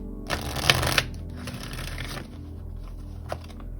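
Oracle cards are shuffled and drawn close by, giving a burst of papery riffling and snapping, then quieter sliding and a single short flick near the end, with no speech.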